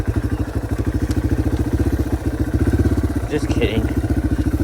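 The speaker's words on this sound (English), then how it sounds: "This is like the ultimate trail bike" A dirt trail bike engine chugs at low revs in a fast, steady pulsing putter on a ride after rain, close and loud. Someone talks briefly over it.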